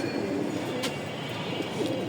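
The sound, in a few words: racing pigeons cooing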